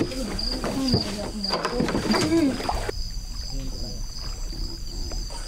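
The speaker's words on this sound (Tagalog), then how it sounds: "Tanging mga kuliglig lamang ang maririnig." Crickets chirp at night in Samar as a steady, high, continuous trill. Voices and other activity sound over it for the first few seconds, then the trill carries on alone against a quieter background.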